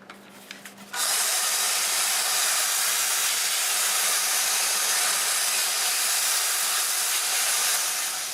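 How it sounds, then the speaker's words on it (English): An English walnut root ball turning on a wood lathe at about 300 RPM while being sanded, a steady loud broadband rasping hiss that starts abruptly after a second and runs continuously to the end. "I have the lathe running about 300 RPM running forward."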